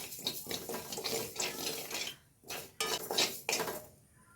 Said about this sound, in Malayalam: പച്ചരി പൊരിഞ്ഞ് വരുന്നുണ്ട്